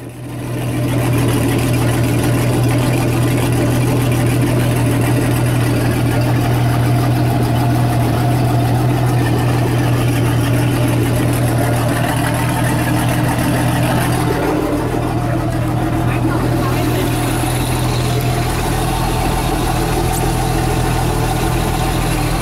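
A Mercruiser outdrive runs in a tub of water with a constant, loud, low engine drone and a steady idle hum throughout, with a slight shift in tone partway through.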